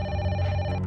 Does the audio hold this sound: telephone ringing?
yes